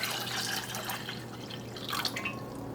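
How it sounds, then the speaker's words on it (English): Cold tap water running into a pot holding eggs in a home kitchen, a quiet continuous trickle and splash with slight surges near the end, alone without talk. "So we got our eggs in the pot. And we add cold water"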